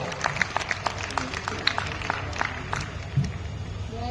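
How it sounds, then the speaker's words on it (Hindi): Audience clapping at a festival stage show, a loose, moderately loud patter with separate claps poking through, some crowd murmur, and a voice briefly heard. "ये दमदार तालियां है"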